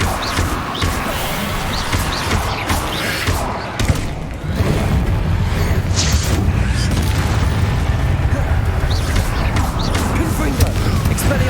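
Booming spell explosions from Confringo and Incendio in Hogwarts Legacy roll on continuously in a dense, loud barrage, layered with other combat sounds and a voice calling out.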